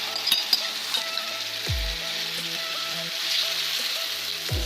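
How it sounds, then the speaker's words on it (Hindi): A steady, hissing sizzle of eggless vegetable omelette batter poured onto an oiled griddle (tava), with crackling pops throughout and a couple of low thumps from handling the pan. "अब मैं ये अपना बैटर डालूंगी इस पर।"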